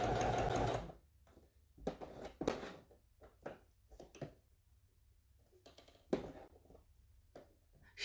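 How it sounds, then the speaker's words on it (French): Leather cat-shaped coin purse stitched on a sewing machine: a loud continuous run of about one second, then short scattered taps and knocks as the work is handled, with no talk. "Hop, je fais une petite couture."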